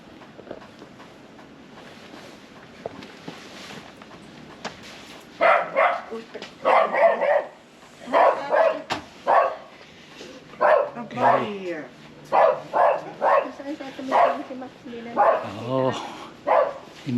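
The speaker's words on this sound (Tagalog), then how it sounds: "Imbitahan pa kami ng aso ng kapitbahay namin." A neighbor's dog barks in a string of repeated, fairly loud barks during the second half, with people talking nearby throughout.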